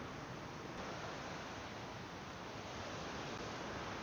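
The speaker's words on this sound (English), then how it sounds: "It's going to be really nice listening to the water tonight." A river flows beside a campground, producing a soft, even rushing wash that continues unchanged with no voices.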